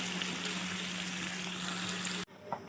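Steady, soft sizzling of chicken frying lightly in a pan for chilli chicken, continuous for a couple of seconds before cutting to a quieter moment with a faint clink.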